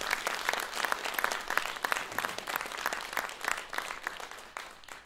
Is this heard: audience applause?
yes